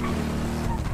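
A car engine in the GTA video game, a loud, steady, close engine drone that lasts only about a second.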